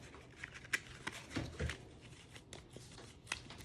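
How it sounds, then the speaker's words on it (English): Gnomes card game decks being shuffled together into one pile, giving quiet, close papery riffles and rustles with a few sharper flicks over about four seconds, no voices. "you'd want to shuffle them together into one large pile"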